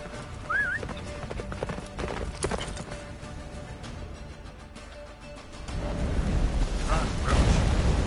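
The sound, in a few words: horse Roach galloping in The Witcher 3 video game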